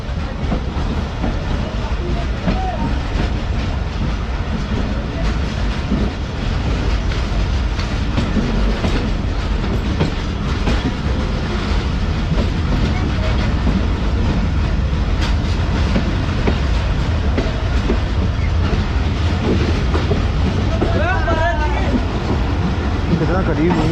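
Train rumbling steadily on a railway line in Pakistan, close and continuous with rhythmic clatter of wagons, under intermittent talking.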